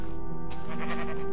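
A Minecraft sheep gives a single short, wavering bleat, close and clear, with no other sounds.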